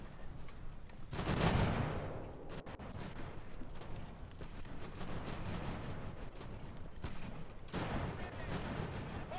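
Musket and artillery gunfire from a battle in the strategy game Ultimate General: American Revolution, rolling volleys and booms in overlapping bursts, a heavier blast early on, moderately loud throughout.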